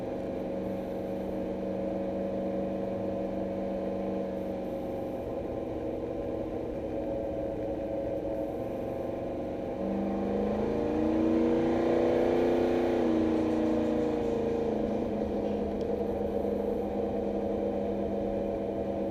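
A truck engine drones steadily while driving around town in third gear, a constant low hum that swells a little louder partway through as it pulls along, with no talking.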